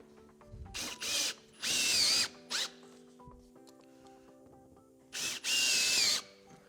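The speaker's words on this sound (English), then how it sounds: "then we're going to screw this through the vent pipe" A power drill drives screws through the vent pipe of a Liberty portable restroom during assembly, giving three loud whirring bursts of a few seconds each with short pauses and light handling clatter between them, close up and without speech.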